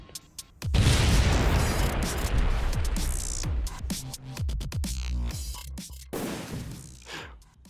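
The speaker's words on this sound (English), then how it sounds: "then we just need a cool explosion animation." Animated bomb explosion effect for a rock-paper-scissors game: one sudden loud boom that bursts in and rumbles down over several seconds, followed by smaller crackling pops and a second softer burst near the end.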